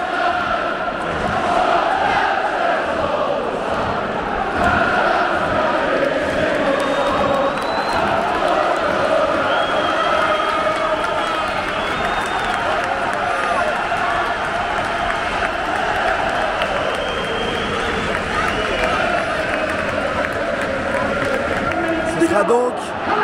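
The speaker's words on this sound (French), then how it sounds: "Écoutez la foule." Dense football crowd noise fills a Middlesbrough stadium ten minutes before kick-off of a Middlesbrough v Coventry City play-off match, a steady roar of many voices with chanting and cheering swells, loud and continuous throughout.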